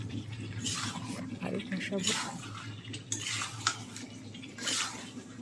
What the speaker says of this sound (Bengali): খুব ভালো করে চিকেনটা কষিয়েছিলাম, আরও কষাবো।